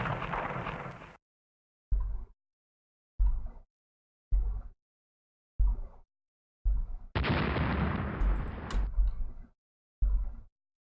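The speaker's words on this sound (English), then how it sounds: "Get our rear turret engaged." A warship's rear turret fires in Rule the Waves, booming in a steady series of separate heavy blasts about a second apart, each ending in a short rumble, with one longer roaring salvo partway through.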